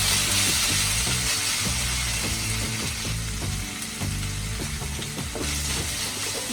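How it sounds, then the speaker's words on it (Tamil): Ginger garlic paste sizzles as it is sautéed in a pan for a prawn and cabbage poriyal. A steady frying hiss runs throughout, with repeated clicks and scrapes from stirring. "இஞ்சி பூண்டு பேஸ்ட் போட்டுக்கலாம். இது நல்லா பச்சை வாசனை போகிற வரை நல்லா வதக்கிக்கலாம்."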